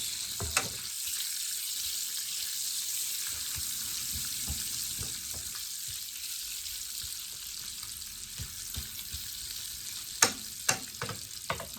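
Food frying on a stovetop pan, a steady, fairly quiet sizzle with sharp clacks of a utensil now and then as it is flipped, a few louder knocks near the end, no talking.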